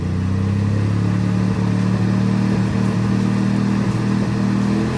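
A Mazda RX7 GSL-SE rotary engine running at its first start in 16 years, a loud, steady, rough idle with slight rev fluctuations and a clattering edge throughout.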